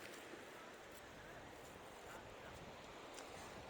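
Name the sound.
strong wind at the beach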